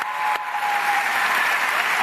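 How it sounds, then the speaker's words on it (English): An audience at a university event claps steadily in a dense, sustained wash of applause, loud and continuous for the whole two seconds. "Round of applause."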